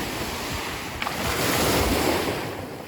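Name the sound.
sea surf waves on a pebble beach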